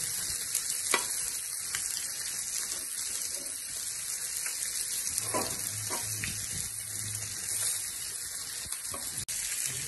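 Fish fillets frying on a hot tawa griddle, a steady close sizzle with a few scraping clicks and thumps as the pieces are turned over.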